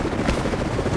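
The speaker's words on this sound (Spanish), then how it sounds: "Supongo que hay que repetir la mecánica del helicóptero." A helicopter in the video game Rise of the Tomb Raider gives off a steady, loud rotor drone that fills the moment without pause or talk.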